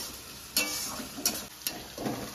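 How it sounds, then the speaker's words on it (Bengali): Chopped onion frying in a pan, a soft steady sizzle broken by a few sharp stirring scrapes, fairly quiet and close. "এবারে কিন্তু পেঁয়াজটাকে ভালো করে লাল লাল করে আগে ভেজে নেব"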